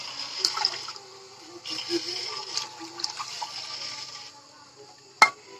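Tap water running and splashing while something is rinsed in a home kitchen, intermittent gushes at moderate distance, ending with a sharp clank.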